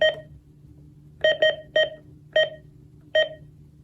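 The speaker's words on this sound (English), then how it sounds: "It's alarm clock, I guess." Uniden WX500 weather radio alarm clock sounding its alarm: sharp electronic beeps, first one, then a quick double and single beeps in an irregular pattern against quiet background hum.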